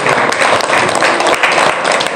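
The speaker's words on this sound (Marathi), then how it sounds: "आपल्याकडून सर्वांनी जोरदार टाळी वाजवायचा" An audience applauds loudly for a young woman receiving a prize for correctly answering a quiz question, with dense, steady clapping sustained throughout and no break.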